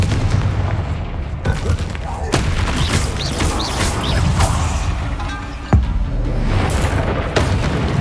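Confringo fire-spell blasts in Hogwarts Legacy, several loud sharp booms at irregular intervals inside a catacomb, each with a short crackling tail over low ambient rumble, no speech between them.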